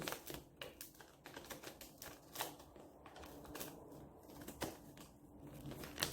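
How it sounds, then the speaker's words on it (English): Cards riffle and snap together in quick, crisp bursts, fairly quiet and close, with short pauses between the shuffling sounds. "I'll do one shuffle for these."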